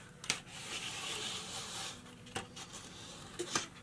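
A cardstock cake box panel is rubbed against the rounded edge of a table, a soft, steady papery scraping with a few sharper taps, quiet and close.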